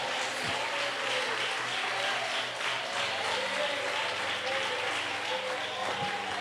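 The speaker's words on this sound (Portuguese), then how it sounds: "Palmas e glória." Church congregation clapping steadily and praising Jesus together during a sermon, a dense continuous wash of many hands with voices mixed in, fairly distant and even in level throughout.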